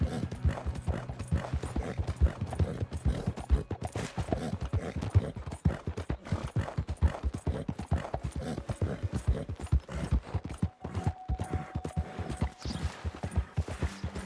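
Rapid clip-clop of horse hooves galloping in Red Dead Redemption 2 in a steady rhythm, with a brief whinny and some mechanical game sounds underneath.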